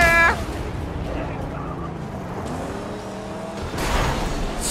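Car engines roar and whine during a vehicle combat chase in the Mad Max video game, with a steady loud drone, shifting engine pitch and a louder burst near the end, while someone talks excitedly over it.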